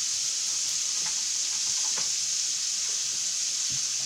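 Hawaiian fajitas sizzle in a pan with a loud, steady hiss of frying and occasional faint clinks of stirring, with no voices.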